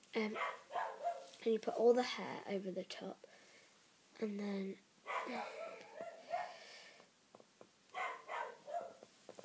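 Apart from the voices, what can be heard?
dog barking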